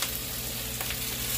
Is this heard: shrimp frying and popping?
yes